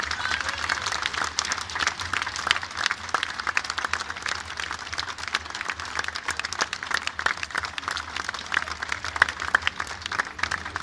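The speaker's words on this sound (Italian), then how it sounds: "Facciamo un grande, grande applauso." An outdoor crowd at a Santa Rosa street festival applauds local firefighters, with dense, sustained clapping and some scattered voices mixed in, steady from start to finish.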